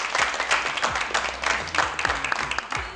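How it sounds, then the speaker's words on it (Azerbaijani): An audience claps steadily in a lively round of applause, close and fairly loud, with individual claps distinct within the wash and low thumps underneath. "Bir də alqışlarla yola salırıq Emin"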